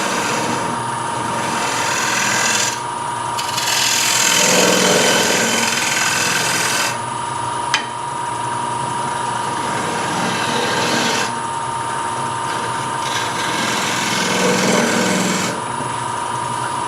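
A wooden platter being scraped on a lathe: steady, continuous rasping, loud and close, with brief swells and a sharp tick near the middle, no talking.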